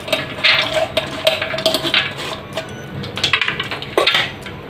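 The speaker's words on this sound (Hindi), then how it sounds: "मैं जो है सबसे पहले चने की दाल इस जार में डाल देती हूँ" Dry chana dal poured into a steel grinder jar gives a close, busy rattle of small clinks and taps in bursts, with no talking.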